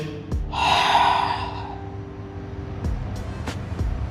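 A person breathes out forcefully during a core flexion move in a handstand workout, a loud close exhale lasting about a second over steady room noise, followed by softer breathing.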